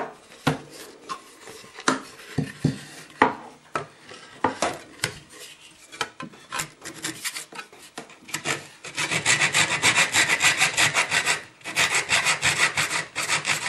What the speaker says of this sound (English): The nice thing about Japanese saws is that they're pull saws